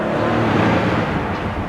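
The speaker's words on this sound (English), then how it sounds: "The exhaust is a little bit throatier." An Aston Martin Vantage sports car's exhaust roars loud and close as it drives through an underpass, a thick, throaty rumble reverberating off the walls without a break.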